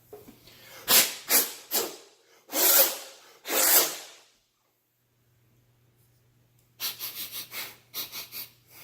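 Harmonica parts, on a Swan SW1248 chromatic harmonica being cleaned, get dried by mouth with short, breathy bursts of blown air, several separate puffs, close and fairly soft, with a brief quiet gap between groups.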